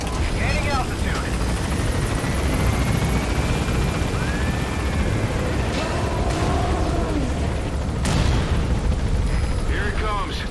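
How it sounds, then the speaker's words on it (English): Helicopter flying in the video game Metal Gear Solid V: a loud, steady rotor and engine roar fills the whole stretch, with a sharp impact and faint whistling game effects layered on top. "Use the chopper's minigun."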